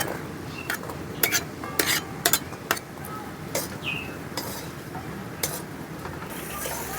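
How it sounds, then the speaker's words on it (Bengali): Boiled peas stirred and fried with spices in a pan: a quiet bed of frying hiss broken by sharp metallic clinks and scrapes of a utensil against the pan, irregular and close. "মটরটা মশলার সঙ্গে ভালো করে কষুক"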